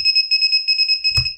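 A Taranis X9D Plus radio transmitter's lost model alarm gives a rapid train of high, even electronic beeps, loud and close, ending with a soft thud.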